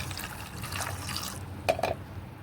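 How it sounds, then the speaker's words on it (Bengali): Water poured over soybeans to soak them in a bowl, a steady liquid wash with a couple of brief splashy trickles near the end, close and moderately loud, no talking. "সোয়াবিনটা এবারে জলে ভিজিয়ে দিচ্ছি।"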